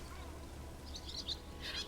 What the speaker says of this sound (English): that bird is very loud